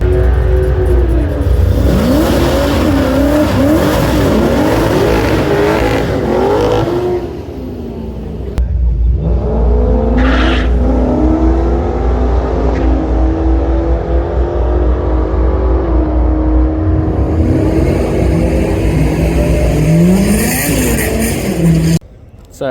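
A Holden Kingswood launches down the strip at Sydney Dragway on half throttle, its loud engine revving and climbing through gears, then cutting briefly before pulling hard again, with a person talking at times beneath the roar.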